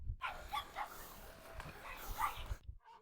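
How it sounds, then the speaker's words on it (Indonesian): A shepherd dog gives a short string of sharp, close barks and yips over about three seconds, with a faint whimper near the end and a quiet outdoor background. "Anjing gembala saya, Rocky."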